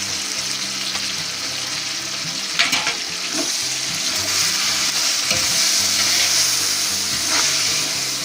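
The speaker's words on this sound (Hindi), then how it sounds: "टमाटरों को भी अच्छी तरह भूनेंगे मसाले के साथ" Tomatoes and green chillies fry with spices in a pan, a steady loud sizzle with occasional clinks and stirring scrapes throughout and no talking.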